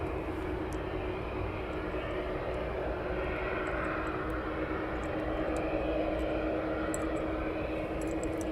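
MNG Airlines aircraft departing East Midlands Airport, a steady distant engine roar with a faint constant whine, moderately quiet and unbroken throughout.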